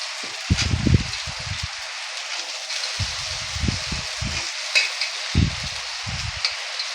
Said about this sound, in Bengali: একটু ভালো করে নাড়াচাড়া দিয়ে এবার ম্যাশ করা সেদ্ধ করা আলুটা দিয়ে দিচ্ছি